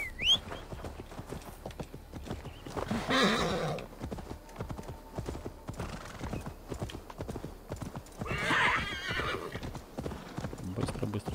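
Steady galloping hooves drum throughout, with two loud horse whinnies rising over the clatter, one early and one near the end, amid game sounds from Assassin's Creed Valhalla.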